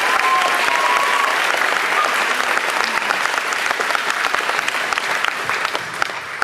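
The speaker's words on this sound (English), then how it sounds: "give them a round of applause because those 3 ladies are outstanding" Sustained audience applause at a high school spring band and vocal concert, honoring three accompanists: dense, steady clapping from a large crowd, loud and continuous throughout with faint scattered cheers.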